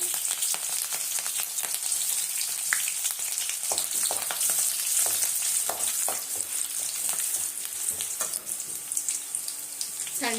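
Chana dal, urad dal and green chillies fry in hot oil with a steady close sizzle and crackle, broken by irregular spoon scrapes and stirring.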